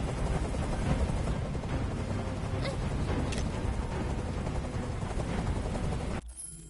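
A helicopter in the video game Detroit: Become Human flies away, its steady rotor roar filling the scene loudly and continuously before cutting off abruptly near the end.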